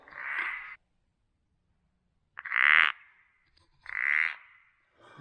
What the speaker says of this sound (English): Oh, it's gotta be a frog.